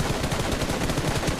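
Gunfire in BGMI, a mobile battle royale game, after its anniversary update: a dense, continuous rattle of rapid automatic shots, loud and steady throughout the short burst, with no voices.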